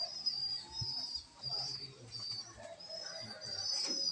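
Pigeons coo softly and repeatedly in the background, with faint chirps and some quiet outdoor noise.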